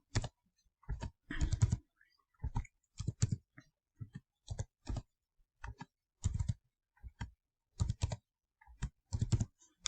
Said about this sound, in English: I'm going to start by typing in these data values